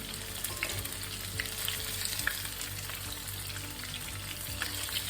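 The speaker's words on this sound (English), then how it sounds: "we're going to add the remainder of the meatballs and fry them up." Steady sizzling of meatballs frying in a pot, a continuous crackle with occasional louder pops and faint stirring, no voices.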